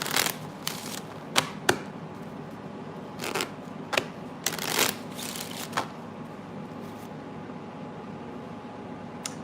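Tarot cards being shuffled in a quiet room, a series of sharp riffling bursts separated by pauses, close and fairly soft with no talking.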